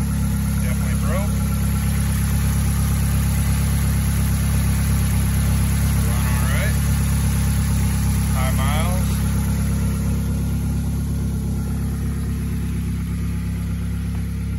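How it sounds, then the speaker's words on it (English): A Ford Escape 2.3 front-wheel-drive engine with 247,000 miles idles with a loud, rough, rumbling drone throughout, the sound of a broken, leaking exhaust, while a few brief voice fragments come through faintly. "Exhaust is definitely broke."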